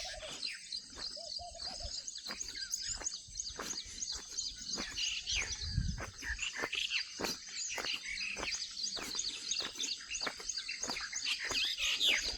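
Birds chirp and call on a quiet village morning beside a stream, many short bright tweets scattered across the scene over a soft, hushed background, moderately near and fairly faint.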